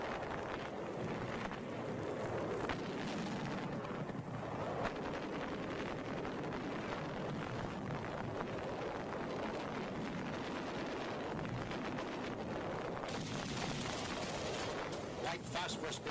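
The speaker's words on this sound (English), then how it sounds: "Troops crouch in holes as enemy gunfire increases" Enemy gunfire in the Battle of Okinawa at Sugar Loaf Hill, heard as dense, rumbling bursts of rifle and artillery fire blended into a constant, loud roar of wartime combat film sound.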